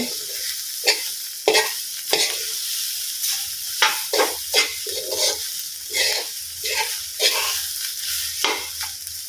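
Fried rice with carrot is stirred and tossed in a hot pan, giving a steady sizzle broken by repeated scraping strokes of the spatula, close and fairly loud with no talking.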